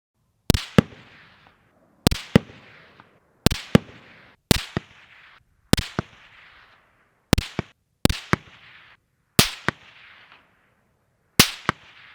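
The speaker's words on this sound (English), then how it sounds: "Unsuppressed, still comically loud, very boomy." Unsuppressed rifle shots fired at targets 150 to 200 yards away, about ten sharp, loud cracks spaced a second or two apart, each with a booming tail echoing off the range and silence between.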